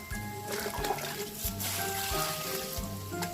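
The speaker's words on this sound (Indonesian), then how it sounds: "kita siram secara merata" Water splashes and patters steadily from a can or hose onto plants in soil, with a low engine-like hum running underneath throughout.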